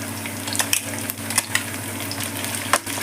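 Shredded cabbage fries with curry leaves in a pan, a steady close sizzle with occasional stirring scrapes and clinks of a spoon.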